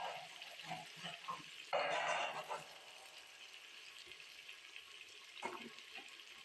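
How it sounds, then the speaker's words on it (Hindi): Water pours into a cooking pot for dal and rice, a brief loud splash and gush that settles into a soft steady hiss, heard close with no talking. "पानी डालेंगे।"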